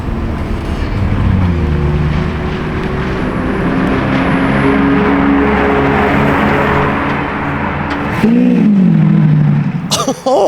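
A yellow Lamborghini Revuelto starts up nearby with a steady engine drone and harmonic hum. A sharp rising rev swells near the end over the continuous crowd and outdoor noise, and voices can be heard faintly in the background.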